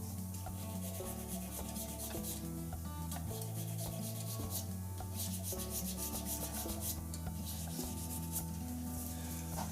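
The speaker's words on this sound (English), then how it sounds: "the sanding takes up most of the time" A resin shaving brush handle being sanded on a spinning lathe, giving a continuous rubbing hiss over a steady low motor hum with tonal whine, with no voices and an even level throughout.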